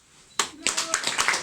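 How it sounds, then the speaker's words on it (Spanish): After a quiet moment, a small audience at a poetry gathering breaks into applause for a poet, with a few close, sharp claps swelling into lively clapping and voices mixed in. "Fuerte el aplauso para Alejandro."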